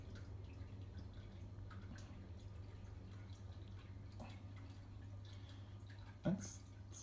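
A drop of JBL marine aquarium test reagent falls into a water sample. One small, close drip sounds once against a very quiet background hiss.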